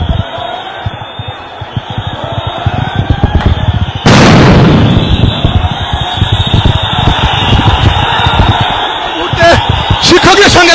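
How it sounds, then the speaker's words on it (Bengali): Sound grenades and tear gas shells are fired during a street clash between teachers and police, with a loud sharp blast partway through, amid constant crowd noise and a reporter talking. "সাউন্ড গ্রেনেড নিক্ষেপ, টিয়ারশেল নিক্ষেপ চলছে এই মুহূর্তে।"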